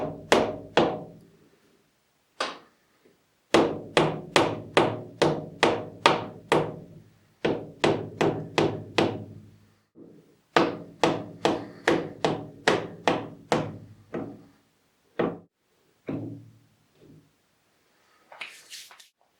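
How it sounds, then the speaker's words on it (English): A hammer gently taps to drive out the spindle of a roughly hundred-year-old lathe. Sharp, ringing metallic knocks come in quick, evenly spaced bursts of eight to ten, with short pauses between bursts, loud and close. "just some gentle tapping and you should start to see the spindle"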